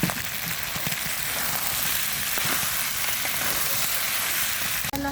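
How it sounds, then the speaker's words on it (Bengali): Spices and chickpeas sauté in a hot pan, producing a loud, continuous close sizzle with a brief clatter near the end. "এই যে একদম সুন্দর করে মশলা কষায় নিচ্ছি, বুটও কষানো হয়ে গেছে।"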